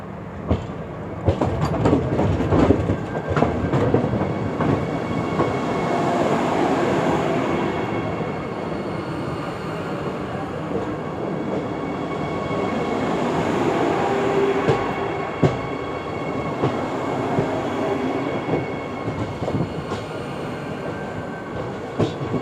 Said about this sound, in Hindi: वंदे भारत एक्सप्रेस आ रही है जामनगर अहमदाबाद वंदे भारत एक्सप्रेस